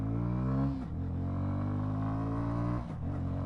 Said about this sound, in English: On a downshift, you can actually engine brake quite safely.